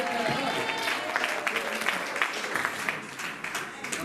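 A church congregation applauds, steady clapping that thins toward the end with scattered voices mixed in.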